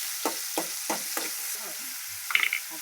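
Ginger-garlic paste frying in a pan, with a soft steady sizzle broken by a few sharp stirring scrapes and clinks of a spoon against the pan.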